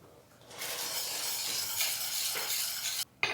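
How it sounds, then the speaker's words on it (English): Garlic, ginger and onion simmer in a pan for huli huli chicken, a close, steady hiss and sizzle lasting a few seconds before cutting out abruptly, no talking. "A little garlic, a little ginger, onion, I'll just let this simmer."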